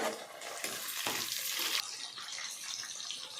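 Tomatoes hit a hot pan of frying onions and green chillies, giving a bright hissing sizzle with sharp bursts that settle into steady frying, close and alone.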